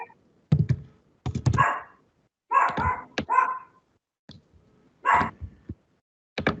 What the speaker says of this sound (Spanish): Lo silencié porque estaba participando el perro